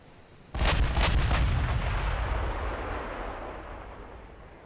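Naval artillery fires in a warship battle in the game Ultimate Admiral Dreadnoughts: a loud, close salvo of three or four rapid booming shots, then a long rolling rumble that slowly fades.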